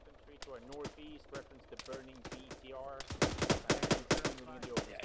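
Rapid bursts of automatic gunfire crackle in the ArmA 3 military shooter, loud and close, following a stretch of radio-style voice chat and continuing with talk layered over the shots.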